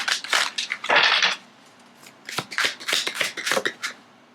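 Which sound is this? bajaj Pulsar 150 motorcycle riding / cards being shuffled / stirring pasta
cards being shuffled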